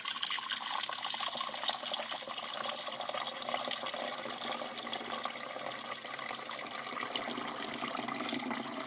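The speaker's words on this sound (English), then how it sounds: "I've already got cold water in the carafe, and I will just pour it into the" Cold water pours steadily from a glass carafe into a coffee maker's reservoir, a continuous soft splashing trickle, close and fairly quiet, with no talking.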